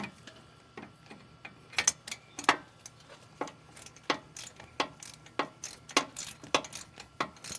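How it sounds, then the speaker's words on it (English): A torque wrench clicks while wheel bearing bolts on a Ford Ranger are torqued, giving a steady series of sharp, close mechanical clicks about once a second, a few coming in quick pairs, over faint background hum. "You guys won't see it, but you'll hear the torque wrench click."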